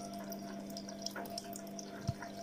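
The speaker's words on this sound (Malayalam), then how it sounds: "ഫസ്റ്റ് ട്രേയിൽ നിന്ന് വളരെ ശക്തിയായിട്ട് തന്നെ വെള്ളം ഉള്ളിലേക്ക് വന്ന്" Water runs steadily into the detergent tray of a Bosch washing machine, a soft continuous flowing and trickling with a faint hum and small splashes, fairly quiet and close.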